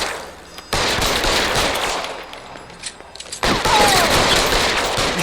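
Gunfire in the video game L.A. Noire, loud bursts of rapid shots that fill the clip, broken by a brief lull in the middle before the firing resumes even harder.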